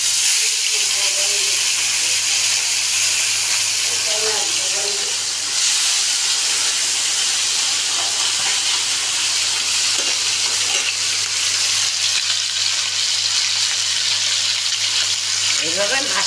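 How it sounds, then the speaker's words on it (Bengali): Salted pomfret fish fries in oil in a frying pan, Bengali style, giving a loud, close, continuous sizzle and hiss, with faint speech surfacing now and then. "এই মাছটা তেলে দেবো, একটু নুন দিয়ে দেবো"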